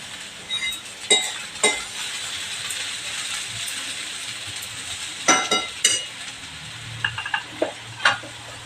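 Sprouted moth beans (matki) sauté in a pan with a soft steady sizzle, punctuated by sharp scraping clinks of a spoon stirring against the metal, close up with no talking.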